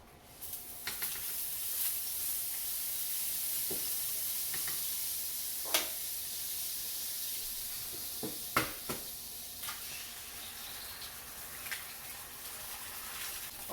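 Egg frying in butter on a pan while Dominican mangu is cooked, a soft steady sizzle with a few sharp clicks and taps from a utensil, fairly close and moderately quiet, no talking.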